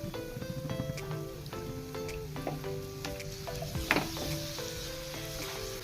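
Hot water hits frying masala and onions in a pan for egg biryani, producing a lively, continuous sizzle and crackle under soft background music.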